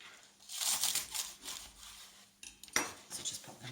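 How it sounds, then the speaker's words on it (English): Kitchen knife trimming the green tops off washed spring onions on a board, a series of close crisp cuts and clinks with a sharper snip near the end. "So I'm just going to take the tops off from here and just cut down a little bit of the green."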